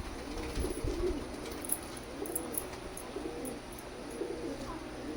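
Pigeons at a pigeon sale in Kolkata, including Pakistani breeds, coo steadily in soft, low, overlapping calls that continue throughout with no talking.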